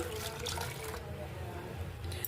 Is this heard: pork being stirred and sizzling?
no